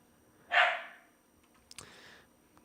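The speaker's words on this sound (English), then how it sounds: "My dog is angry upstairs." A dog barking from upstairs in a house, one sharp muffled bark followed by a fainter second yip and a knock, heard at a distance in an otherwise quiet room.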